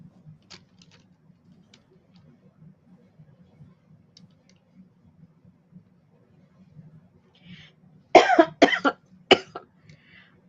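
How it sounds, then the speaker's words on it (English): After a quiet stretch with faint clicks and a low hum, a quick burst of three or four sharp coughs sounds close by. "something's making me cough"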